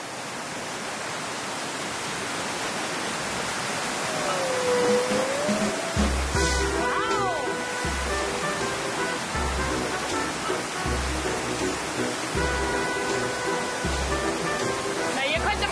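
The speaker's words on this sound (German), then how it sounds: "legt fotogene Wasserfälle an und sorgt für kaltes Rauschen" A mountain stream and waterfall on the hike up to Kriváň rush in a constant, full roar of water, with a brief whistle-like tone and a few clicks heard faintly over it.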